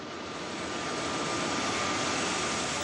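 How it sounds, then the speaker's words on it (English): A private jet's engines give off a steady, broad roar that swells slightly over a few seconds, heard alone with no voices. "This is his private jet."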